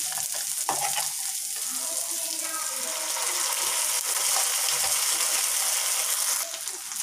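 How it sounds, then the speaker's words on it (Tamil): Ground masala paste frying and being stirred in a pan of paneer masala gravy, a steady wet sizzle with scraping stirs, moderately close and continuous, no talking heard. "இப்போ வந்து நம்ம அரைச்சி வச்சுருக்க அந்த விழுதை போட்டுடலாம்."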